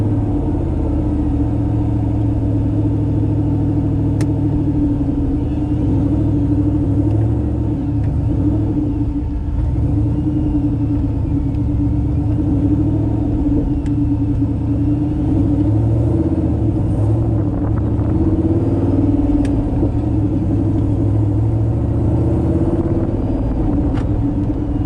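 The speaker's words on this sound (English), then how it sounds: "hear cool turbo noises in a LS powered Lamborghini" Turbocharged LS V8 swapped into a Lamborghini Murciélago, a steady deep engine rumble heard from inside the car, with faint turbo whistle and occasional sharp clicks above the drone, continuous and loud throughout with no talk.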